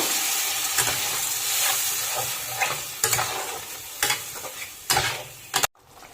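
Watery spice paste poured into a hot pan of egg curry, a sizzling hiss with stirring scrapes and brief splashy bursts, close and fairly loud, ending abruptly.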